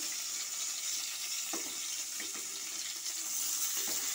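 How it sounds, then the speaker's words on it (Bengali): Chuno fish paturi frying in a pan over low heat, giving a steady soft hiss and sizzle with occasional faint pops and clinks, continuous and fairly quiet. "অল্প একটু জোর দিয়ে আমি একটু লাল লাল করে এই পাতুরিটাকে ভেজে নিচ্ছি"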